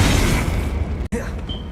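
A fiery Incendio spell blast from the video game Hogwarts Legacy: a loud, dense burst of roaring noise that fills the clip, cut by one sharp break before resuming.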